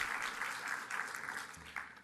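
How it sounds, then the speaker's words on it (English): Quiet applause at an annual meeting of the President's Council on Sports, Fitness & Nutrition for the National Fitness Foundation team, a soft, even patter of clapping that thins toward the end. "they deserve a major round of applause"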